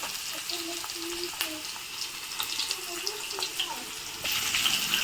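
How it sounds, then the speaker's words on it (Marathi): Chopped onion goes into a hot cumin and mustard seed tadka for dal khichdi, hissing in a continuous watery sizzle that swells louder near the end, with a voice faintly in the background. "तर यामध्ये आता मी कांदा ॲड करणार आहे एक मोठा कांदा घेतलाय मी ती बारीक कट करून"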